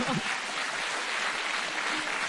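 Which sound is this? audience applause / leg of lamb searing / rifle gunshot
audience applause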